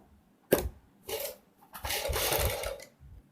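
Sewing machine stitching white lace onto a suit neckline, a short burst of needle clatter followed by a longer steady run, close up with no talking.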